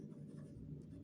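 Pen or pencil scratches faintly across paper while numbers are written out by hand, a brief soft rustling stroke lasting about a second.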